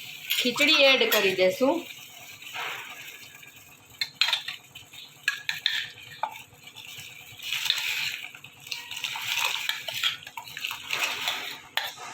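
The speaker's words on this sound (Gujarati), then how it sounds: "પાણી હળદર મીઠું જે નાખ્યા હતા એ પાણી ઉકળવા માંડ્યું છે" Water seasoned with turmeric and salt bubbles in a pot for khichdi in a Kathiawadi kitchen, mixed with clinks of a metal utensil against the pot and brief stirring sounds, while a voice talks over it.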